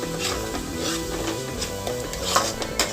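Kashmiri chili powder with coriander and cumin powder is stirred into onion paste frying in a pan, giving a steady close sizzle with scraping stirs and a couple of sharper clinks near the end.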